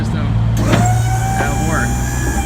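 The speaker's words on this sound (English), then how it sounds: "as you see it go up, you'll see the dual hydraulic system" A hydraulic liftgate on the back of a 2014 International DuraStar 4300 24-foot box truck rises, its aluminum platform driven by a dual hydraulic system, giving a loud steady motor hum with faint whines over the drone.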